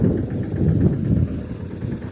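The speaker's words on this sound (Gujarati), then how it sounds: "તો આવી રીતે ટ્રેક્ટર જાવ દેવું પડે રિવર્સમાં" A low, steady tractor engine rumble nearby as it reverses, with a faint rhythmic throb, no voices over it.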